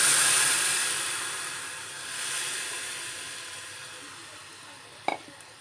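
A steady sizzling hiss of ground spice paste frying in a pan for Malvani tomato saar, loud at first and easing off, with a brief clatter near the end.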